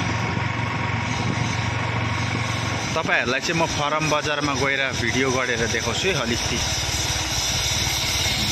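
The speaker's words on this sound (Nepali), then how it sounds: "म चाहिँ बाइक चलाएर जाँदैछु" A motorcycle ridden slowly along a road, its engine running as a steady, loud drone throughout, with someone talking over it in the middle stretch.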